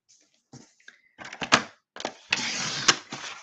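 Cardstock being cut to size for a greeting card: a few sharp clicks and scrapes, then a longer rasping slide of the blade through the sheet near the end, close and fairly quiet, with no talking.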